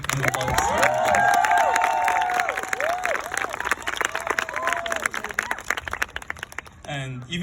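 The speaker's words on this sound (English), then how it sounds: "could we have like a little applause?" Applause and cheering from a graduation crowd for the class of 2022, a dense roar of clapping and shouts that swells early then thins into scattered claps, with voices mixed through it.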